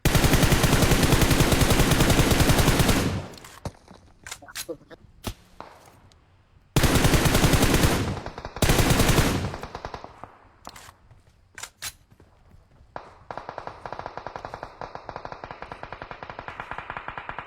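Video game gunfire with sniper shots: long bursts of loud continuous firing, then scattered sharp single shots and further rapid bursts, with dense shooting resuming toward the end.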